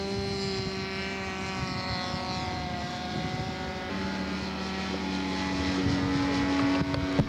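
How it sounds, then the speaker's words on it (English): A Spitfire warbird flying at the 1997 Warbirds over Awatoto air show near Napier and Hastings, New Zealand, its steady propeller drone heard at a distance and swelling slightly louder toward the end. "Spitfire."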